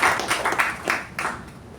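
A meeting audience at a Toastmasters installation ceremony gives a short round of applause, a dense close patter of clapping that trails off within two seconds.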